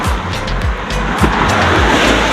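Road traffic passing a stopped motorbike rider on a highway ride from Ambikapur to Korba, a steady loud roar of vehicles rushing by close, with rhythmic thumps and wind rumble and no clear talk.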